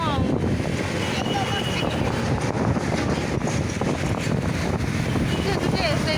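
Strong wind on a riverbank buffets the microphone in a steady, rough roar that lasts the whole stretch, while a person keeps talking underneath it.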